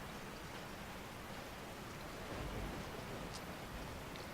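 A rain storm over a lake in Resident Evil 4, steady hissing downpour with a faint low rumble underneath, continuous and moderately distant, with no voices.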